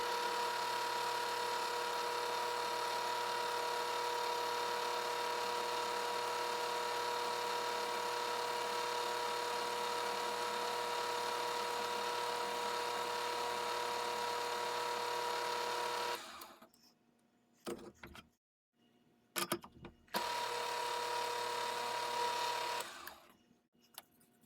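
Metal lathe facing the front of a rimmed cartridge case: a steady, continuous motor whine and cutting hum lasting most of the time, then stopping with brief bursts as the machine halts and restarts.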